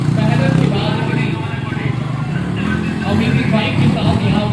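A Pulsar motorcycle engine runs steadily during an outdoor stunt show in Gwalior, a dense continuous rumble blended with crowd noise and an announcer talking over it.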